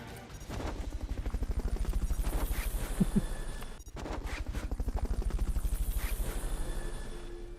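Helicopter in the game Metal Gear Solid: Portable Ops, a loud close rotor thumping in fast steady pulses that briefly cuts out mid-way, with a couple of sharp shot-like hits.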